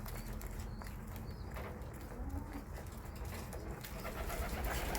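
Pigeons cooing in a dense, noisy loft setting, soft low coos blended into a constant rustling and shuffling background, with no distinct speech.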